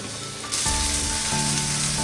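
Chopped garlic and capsicum hit a hot oiled pan with a sudden loud sizzle that rises sharply and holds as a steady, bright frying hiss, with faint stirring scrapes underneath.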